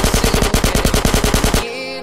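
Gunfire in a GTA San Andreas DYOM SWAT mission, a loud rapid string of about fifteen evenly spaced shots, then abrupt quiet with faint game ambience.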